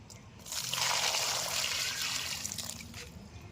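Water pours in a steady trickle over a hot roasted green mango in a village kitchen, a close splashing stream that swells and then tapers off.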